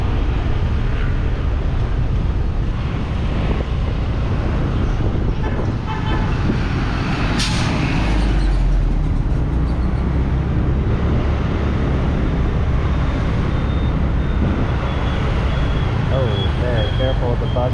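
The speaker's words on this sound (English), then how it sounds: "Careful with the buses." Busy late-night Saigon street traffic with buses and motorbikes rumbles loudly and continuously nearby, with engine drone, a sharp horn toot and passing vehicles, while people talk over it.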